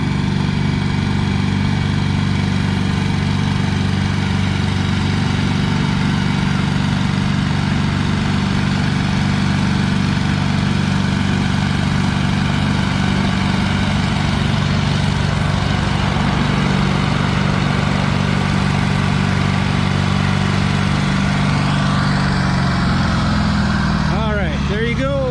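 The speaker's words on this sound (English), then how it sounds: "I think it's her first time pulling this tractor." An Oliver tractor's engine drones continuously and loudly at a vintage tractor pull, a steady low rumble held throughout with a brief shift near the end.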